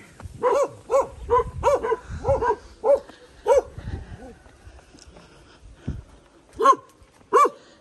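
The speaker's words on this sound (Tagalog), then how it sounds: "Ingay ng mga aso." Several dogs bark in repeated bursts, some close and some farther off, with pauses between volleys and a few yips near the end.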